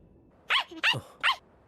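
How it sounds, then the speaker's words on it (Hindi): A family dog in a Tokyo 24th Ward anime episode lets out three short, sharp barks in quick succession, clear and fairly close against a quiet background. "ये तो साकुरागी परिवार का कुत्ता है।"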